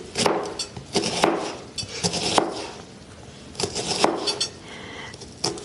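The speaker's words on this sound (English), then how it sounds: "For a sore throat, you finely slice the onion." Knife finely slicing a raw onion on a board, giving a run of crisp, close cuts in uneven bursts with short pauses between strokes.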